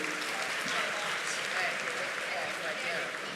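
Convention crowd applauding the actors of a Charmed panel at a Toulouse gaming show, a thick continuous roar of clapping held evenly at moderate volume from start to finish.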